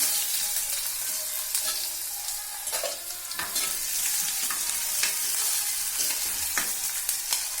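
Mustard seeds, cumin and onion sizzling in hot oil, a continuous bright frying hiss with popping crackles and occasional stirring scrapes, close and steady throughout.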